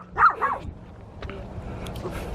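A dog gives two quick close barks, then a faint yip and some low room noise follow.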